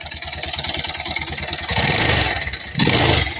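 A Bajaj Rouser 220 motorcycle engine runs with a rough, uneven idle, thumping pulses up close, then blips its throttle twice into louder revs.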